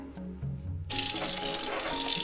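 A kitchen sink tap turned on, a quiet room tone with faint low hum giving way to a sudden steady gush of running water that continues loud and even to the end.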